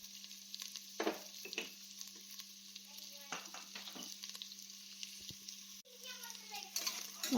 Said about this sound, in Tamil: நல்லா போட்டுட்டு இப்போ வதக்க போகிறோம்